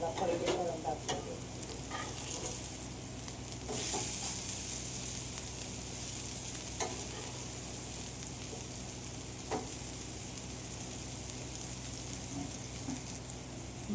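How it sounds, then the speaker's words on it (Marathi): Food fries loudly in a hot pan as it is turned over, a continuous close sizzle with a few clinks and scrapes from the flipping and no talk. "बघू शकता मित्रांनो, एक बाजू मस्त भाजून झालेली. मला पलटी करून दाखवते."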